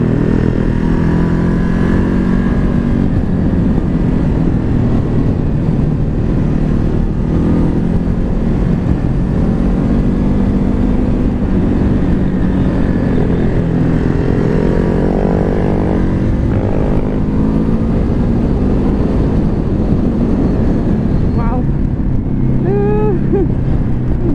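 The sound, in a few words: Ducati Hypermotard SP motorcycle riding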